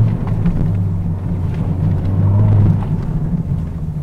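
A Honda Civic Type R FL with an upgraded exhaust pulls hard in second gear, a low, droning exhaust rumble that swells in the middle and settles back, heard from inside the cabin.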